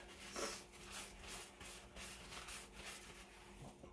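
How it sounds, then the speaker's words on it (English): Cloth or gloved hand wiping excess acrylic pour paint off the sides of a canvas, a soft repeated rubbing and swishing at close range with a steady back-and-forth rhythm and no talk. "just want to give the sides a wipe a little bit, get rid of the excess"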